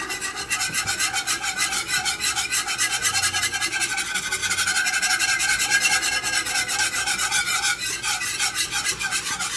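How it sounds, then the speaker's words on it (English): A whisk stirs a thick roux with cheese in a saucepan, making fast, rhythmic scraping and rasping strokes that repeat steadily and close up for about ten seconds, with no talking. "you're going to want to stir that up with a whisk"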